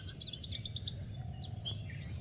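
Birds call in a forest on a rainy night at a solo camp, a faint quick series of high chirps followed by a few scattered tweets over a low background rumble.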